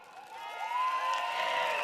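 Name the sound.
crowd applause and cheering welcoming the PAP Sengkang team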